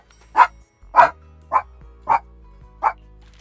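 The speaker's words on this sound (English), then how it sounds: "Why are you barking?" A dog barks five times in a slow, evenly spaced series, each bark sharp and fairly close, with a low hum underneath.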